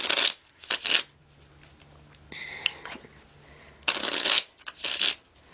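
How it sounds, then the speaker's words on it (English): Tarot cards being shuffled in several quick riffling bursts, with a brief soft clatter in the middle and quiet pauses between. "One more shuffle."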